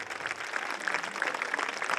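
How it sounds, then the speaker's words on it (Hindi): An audience at a school annual function claps loudly and continuously, a dense, even wash of many hands filling the hall at close range. "ऑडियंस एक बार जोरदार तालियां बजा दीजिए।"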